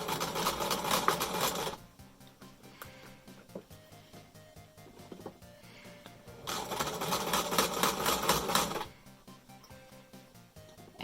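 A sewing machine stitches fabric for a face mask in two loud, steady runs up close. The whirring stops for a few seconds between runs, leaving quieter clicking and handling noise.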